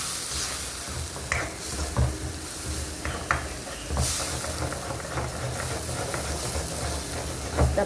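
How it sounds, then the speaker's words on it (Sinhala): Food fries in a pan with a soft, fairly quiet sizzle and hiss, broken by a few stirring clinks and scrapes at irregular intervals. "අපි දැන් හොඳට බැදෙන්න ආරිමු."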